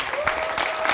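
Conference audience applause at closing remarks, a short burst of dense clapping with a faint voice beneath.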